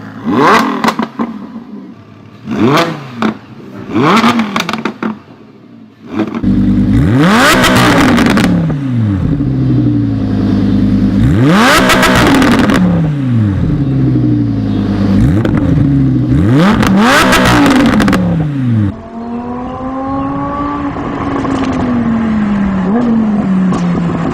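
Lamborghini Gallardo LP 560-4 Polizia V10 engine, the Italian state police variant, revving loudly and close up: a few short blips, then repeated long sweeping revs climbing and falling, settling into a steady idle at the end.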